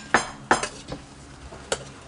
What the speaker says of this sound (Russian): Хорошо, вилочкой стучала. А ну постучи громко маме